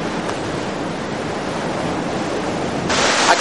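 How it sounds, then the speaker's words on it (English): Ocean surf rushes in at Laguna Beach as a continuous broadband roar, loud and close, swelling slightly toward the end with no voices. "You can see the water rushing in"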